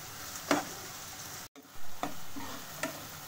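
Green chilies tossed briefly in a hot pan for chicken Manchurian give a soft, low sizzle, with a few separate scraping stir strokes and a short dropout in the middle.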